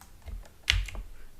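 Computer keyboard tapped lightly to enter a password, a few soft clicks closely spaced with one sharper key strike in the middle, near and quiet with no voices.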